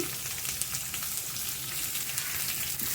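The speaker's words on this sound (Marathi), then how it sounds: "मोहरी चांगली तडतडायला द्यायची" Mustard seeds and cumin crackle and sizzle in hot oil in a wok, a steady dense frying hiss with scattered sharp pops, close and uninterrupted.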